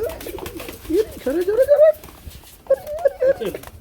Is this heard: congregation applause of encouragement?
no